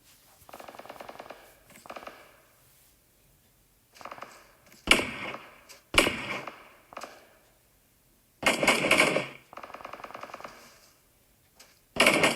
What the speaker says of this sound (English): So 69 Stone is still firing upon Team 10